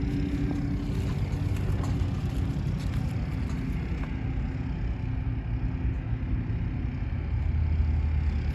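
A Trans Am road-racing car with side-exit exhaust idling in the paddock, a steady low rumbling engine close by with a constant throaty drone and no talk.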